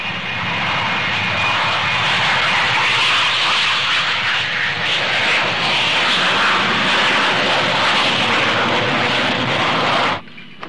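Inside the cabin of an otherwise empty airliner, the aircraft engines give a loud, constant, broadband roar throughout. It cuts off abruptly at the very end.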